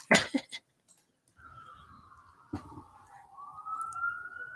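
A single cough, then a toy police car's siren sound effect rises and falls in pitch for several seconds, moderately loud and clear, with a brief sharp knock partway through.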